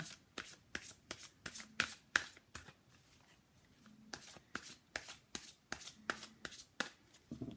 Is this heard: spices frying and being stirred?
no